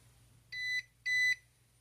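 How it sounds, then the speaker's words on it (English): Two short, identical electronic beeps from an APC UPS battery backup signaling low battery, each about a quarter second long, clear and alone over a faint steady hum. "Well, you just heard that beep."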